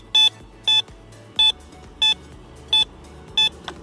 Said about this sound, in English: that same beep over and over and over again